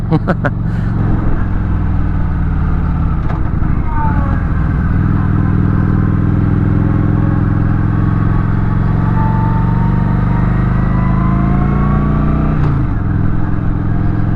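A Kawasaki Vulcan 900 Classic cruiser motorcycle engine runs steadily and close, its low, throbbing idle holding even throughout with a few small shifts in pitch.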